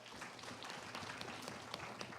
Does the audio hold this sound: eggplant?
no